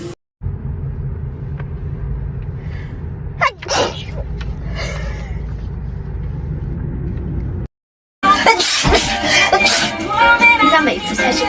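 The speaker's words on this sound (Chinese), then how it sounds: "稍等，打个喷嚏。" A young woman gives a single wet allergy sneeze midway, set against a steady low rumble, before a louder, noisy stretch of sound takes over.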